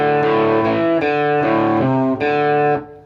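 Electric guitar plays the Latin section of a song, a loud, sustained run of overdriven notes in several phrases with brief breaks, ending in a quick fade.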